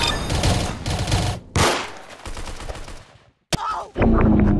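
Gunfire crackles in bursts of close, sharp shots, several rapid volleys broken by a short silent gap and then renewed firing.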